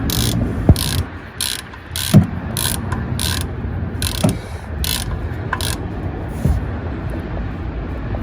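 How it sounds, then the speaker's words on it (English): A hand ratchet clicks in short, fast bursts as it tightens a new oil filter on a Ford Fusion during an oil change, loud and close with brief pauses between the rapid clicking runs. "After that, tighten it with your ratchet."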